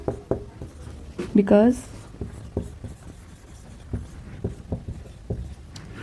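A pen scratching out a written answer on paper by hand, brief strokes and rubbing under a nearby speaking voice.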